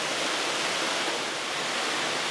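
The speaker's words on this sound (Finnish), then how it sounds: "Pitkästä aikaa sadepäivä. Oikein kunnolla tulee vettä." Heavy rain pours down outdoors in Piedmont, Italy, as a dense, steady hiss with no breaks, moderately loud and with no voices over it.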